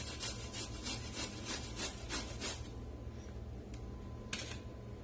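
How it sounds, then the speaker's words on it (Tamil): Zucchini rubbed against a medium-size grater in quick, rhythmic rasping strokes, close and steady, slowing to a few scattered scrapes toward the end. "மீடியம் சைஸ் துருவியில வச்சு நம்ம இதை வந்துட்டு துருவி எடுத்துக்கலாம்."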